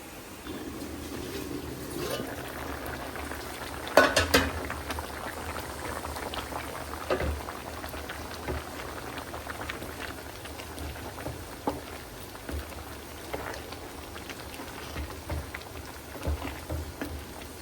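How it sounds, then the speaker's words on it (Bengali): A prawn and vegetable curry boils under a lid, a steady, close bubbling and simmering hiss with a few louder pops and rattles scattered throughout. "তো কিছুক্ষণ পর আবার আসছি, এতক্ষণে সিদ্ধ হতে থাকুক।"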